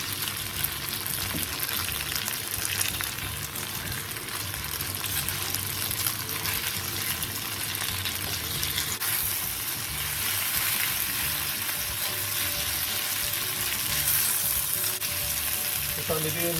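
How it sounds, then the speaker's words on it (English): Belly pork stir frying in a hot wok with chillies, a dense continuous sizzle that stays close and steady throughout with no talk. "What I'm doing now is try to let the pork get a bit crispy on the meat."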